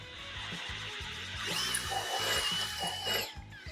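A power drill whirring in short bursts, the motor's pitch rising and shifting as it bites into material, fairly close.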